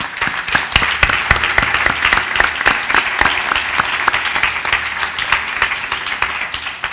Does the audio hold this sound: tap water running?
no